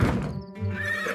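A horse whinnies with a brief, shrill neigh, backed by a quick patter of hooves, all within a short burst.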